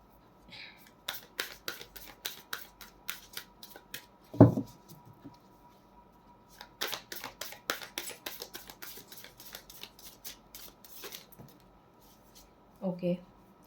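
Tarot cards shuffled by hand in a quiet room, bursts of rapid riffling clicks in two long runs with a soft thump between and a brief rustle at the end.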